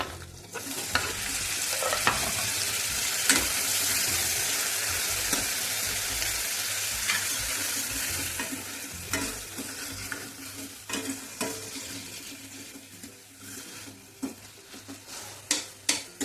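A methi dal mixture stirred in a hot pan, a spoon scraping and clinking against the metal over a steady frying sizzle, the scrapes turning sharper and more spaced toward the end; no one talks.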